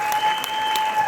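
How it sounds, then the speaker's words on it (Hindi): An audience claps at a business seminar. The applause is dense and steady and lasts about a second, with a faint tone running beneath it. "ये अच्छी लगे ना बात तो तालियां बजाया करो"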